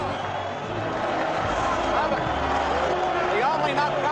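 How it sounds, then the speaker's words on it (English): Boxing arena crowd in bedlam after a knockdown: a dense, sustained roar of cheering and shouting voices, loud and continuous with swelling yells. "The crowd, needless to say, is in a bedlam"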